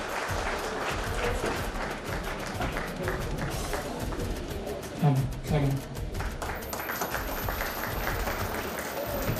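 Applause rises from the audience at a school annual prize-giving ceremony, a dense stretch of clapping that fills the hall, with a voice speaking partway through.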